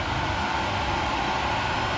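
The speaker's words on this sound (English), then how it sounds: "now she's cranking it up." A Maxspeedingrods diesel heater burning engine oil roars steadily as it cranks up, a loud, constant broadband drone with no pauses or voices.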